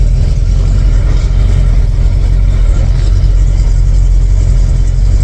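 An LS3 V8 engine swapped into a Land Rover Defender 110, running rich, rumbles steadily with a deep, loud, continuous drone heard from close up.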